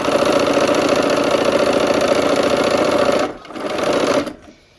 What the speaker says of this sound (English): And I sew from the side that has the most seams on it